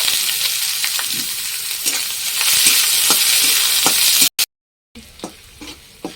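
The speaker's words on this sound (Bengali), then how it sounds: "কড়াইতে তেল দিয়ে দিয়েছি গরম হয়ে গেছে তেজপাতাগুলো ছেড়ে দেবো কালো জিরা দেওয়ার দরকার ছিল সেখানে কালো জিরা নাই বলে আমি সাদা জিরা দিয়ে দিলাম আর দিয়ে দেবো এবার কিছুটা পেঁয়াজ" Onions frying in hot oil in a wok with bay leaves and cumin seeds, a loud steady sizzle with occasional stirring scrapes, cut by a brief gap before a quieter hiss resumes.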